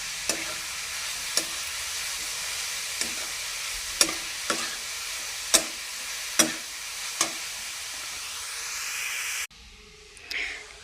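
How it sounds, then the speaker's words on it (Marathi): Grated carrot halwa roasted and stirred in a pan, a steady sizzle punctuated by about eight sharp spoon clicks against the pan at irregular intervals, then a pause and a brief shuffle, no talk. "छान असा भाजून घ्यायचा"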